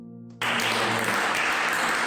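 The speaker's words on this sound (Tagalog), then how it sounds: "Palakpak po natin ang ating pong Panginoon." A church congregation breaks into sudden applause after a brief spoken moment, a dense, steady roar of clapping filling the room.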